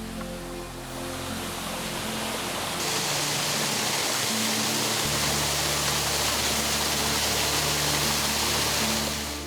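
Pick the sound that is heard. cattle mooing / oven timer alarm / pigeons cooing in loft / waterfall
waterfall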